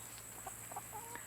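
Chickens cluck softly and intermittently close by, a few short clucks and murmurs over a faint steady background hum.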